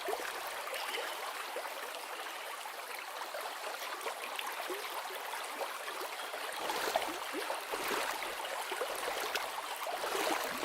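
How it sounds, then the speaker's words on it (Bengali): Water flows steadily with a soft, continuous hiss and trickle as a wooden boat moves along a river at night in a Bengali cartoon, with no voices heard. "নৌকা চলতে থাকে।"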